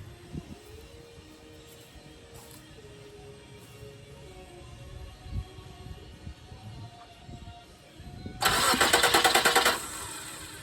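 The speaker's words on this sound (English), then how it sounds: "I'm gonna crank the engine just to see if that makes a difference." A car engine with faulty fuel injectors turns over and catches with a loud, sustained burst of noise near the end, following a stretch of quieter mechanical rumble and handling sounds.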